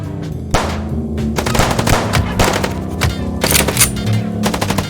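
Loud, dense gunfire rattles in rapid bursts during a driving chase in the Chicken Police video game, with machine-gun volleys overlapping engine drone and game music, close and continuous with no speech.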